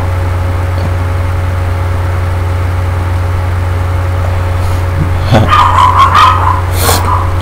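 Dogs barking, a few sharp barks arriving late over a loud, steady low engine-like hum.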